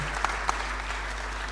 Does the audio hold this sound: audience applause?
yes